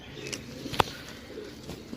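A pair of golden pigeons gives faint, soft coos in a quiet room, with one sharp click near the middle.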